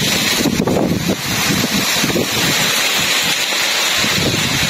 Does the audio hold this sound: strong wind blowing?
yes